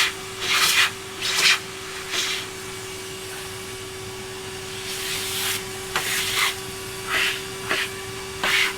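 A household vacuum cleaner hoovering in bursts, with several loud broadband passes separated by quieter gaps over a steady hum, close by.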